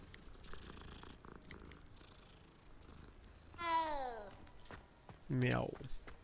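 In Hogwarts Legacy, a cat purrs quietly beneath low background sound, then gives two clear, close meows, the second louder and sharper.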